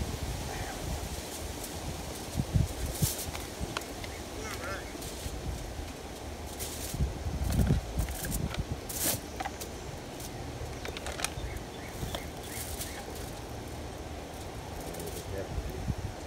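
Wind blows outdoors around a foil-lined solar oven weighted with bricks, a rough low buffeting rumble with gusty surges and rustling, while a voice talks faintly.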